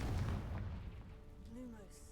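A Confringo blasting spell explodes in a cave in the Hogwarts video game, a deep booming burst at the start that rumbles and decays, followed by faint tonal magical shimmer.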